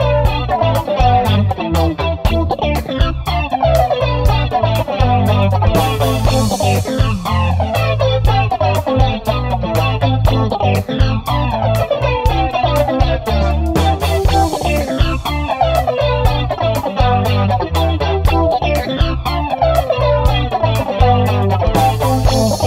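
An electric guitar runs through a cheap amp modeler with effects, playing Latin-style lines and chords continuously and loudly with no talking.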